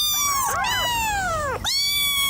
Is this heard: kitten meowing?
yes